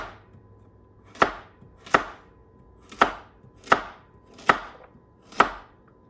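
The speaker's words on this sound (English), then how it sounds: "this thing's chopping right through this carrot" An Esee JG5 knife chops through a carrot on a cutting board, six sharp crisp strikes spaced about a second apart, close and clear with no talking.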